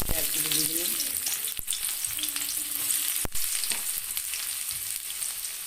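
Onions, chilli and garlic frying in a pan, a loud, steady sizzle running the whole time with a couple of brief knocks from stirring.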